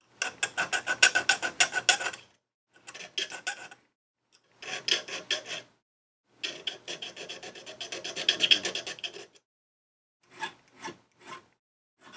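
A coarse hand file rasps against a silver ring being hand-fabricated, with close, gritty strokes in bursts of several seconds separated by short pauses, then a few brief single strokes at the end, with no talking.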